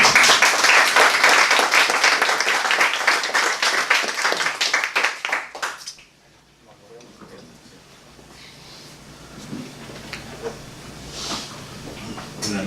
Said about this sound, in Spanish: Y bueno, un fuerte aplauso para Marco Martos.